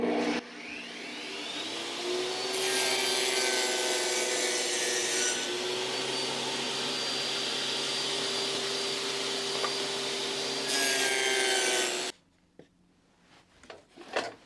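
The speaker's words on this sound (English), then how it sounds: "I got my little dado stack in there to put a 3/16 inch groove through this" Dado stack blade cutting a 3/16-inch groove through a wooden board for a nightstand bookshelf, a loud sustained whining roar with harsher bursts as the wood feeds through, then cutting off abruptly into quiet clatter.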